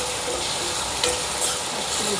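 Grated green chilli sizzling in a pan with garlic cloves and onion being fried for a flat bean curry, a steady, close, dense sizzle with faint stirring scrapes and no talk.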